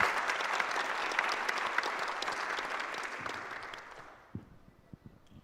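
An audience at a school district State of the District address applauds a high school string quartet, the dense clapping gradually thinning and fading out into a few scattered final claps.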